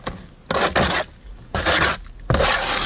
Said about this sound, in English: Now again, I'm going to mix it a little bit on the other side.